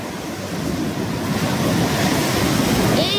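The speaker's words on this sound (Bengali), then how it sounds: "কত বড় বড় ঢেউ আসছে।" Big sea waves break on a beach, a loud continuous roar of surf with wind buffeting the microphone, building slightly over a few seconds.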